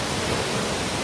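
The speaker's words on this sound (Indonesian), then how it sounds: "Ini airnya cukup deras, air terjunnya keren." Takapala waterfall pours with a strong, steady roar of rushing water, dense and continuous throughout, loud and close with no other sounds above it.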